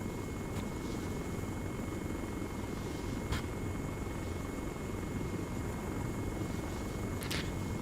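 A transport helicopter flies in the video game Arma 3 over a Malden map, giving a constant, dense rotor and engine drone heard from inside, with a few faint clicks and no talking.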